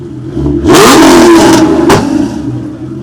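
A TVR Tuscan sports car engine revs hard up close at a classic car meet, a loud deep roar that swells, surges again, then settles back to a rumbling idle.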